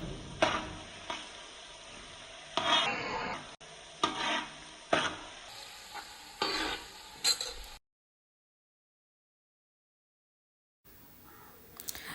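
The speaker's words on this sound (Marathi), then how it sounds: "तेल गरम झाल्यानंतर त्यामध्ये वाटून घेतलेले लसूण आहे तो या तेलामध्ये टाकून घ्यायचा आहे आणि लालसर होईपर्यंत परतून घ्यायचा आहे" Ground garlic fries in hot oil for an Agri-Koli style fish curry, with spoon stirring and scraping that comes in rhythmic bursts over a steady sizzle. It stops for a few seconds, then resumes softly.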